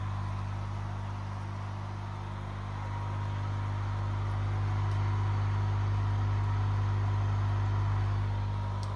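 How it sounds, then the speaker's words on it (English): A large air pump with air stones attached through a DIY manifold built from water irrigation fittings hums steadily and quietly, with a low, even drone and soft bubbling hiss that holds throughout. "The pump runs silently for such a large pump and it is very powerful."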